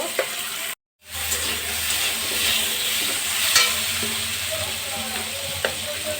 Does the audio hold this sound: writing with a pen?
no